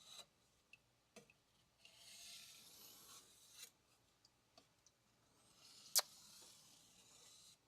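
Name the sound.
sharpening a blade on a Japanese whetstone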